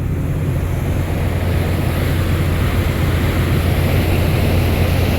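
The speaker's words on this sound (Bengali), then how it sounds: "তো এখান থেকে আমরা একটু প্রপেলার থ্রাস্টটা দেখি।" Propeller thrust churns the water behind the Parabat-12 river launch on the Dhaka-Barisal route, a loud, unbroken roar of rushing water over a low engine drone.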